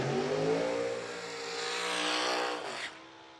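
Drag racing cars launch hard down the strip in a semifinal heat of an old-timers' class at a custom shop's year-end event, engines roaring loud and rising in pitch before cutting off abruptly near the end.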